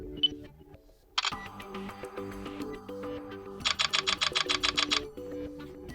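A HOTWAV T5 Pro phone camera in burst mode: a rapid burst of about ten sharp, evenly spaced shutter clicks near the end, following a single earlier click, over a faint steady background.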